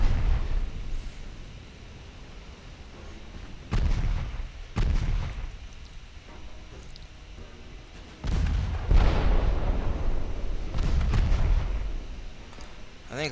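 Heavy naval guns fire in Ultimate Admiral: Dreadnoughts, several loud, deep booming salvos spaced a few seconds apart, each followed by a rumbling decay over steady low background noise.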